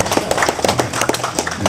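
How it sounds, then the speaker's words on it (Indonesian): Scattered clapping from an audience at an official opening ceremony for a government office, a short burst of applause with uneven, moderately loud hand claps. "Wah, tepuk tangan semuanya."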